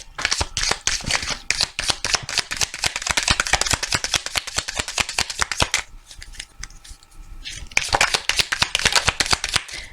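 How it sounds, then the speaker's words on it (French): Oracle cards are shuffled by hand, producing rapid papery riffling and slapping in close, quick bursts, with a short pause of softer handling before the shuffling resumes; no voices. "Je vais prendre une petite carte de l'oracle aussi des amoureux"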